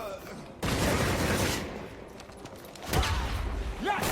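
Video game gunfire in Gotham Knights: a sudden burst of rapid shots that sustains for about a second before fading, then another loud hit, with voices in between.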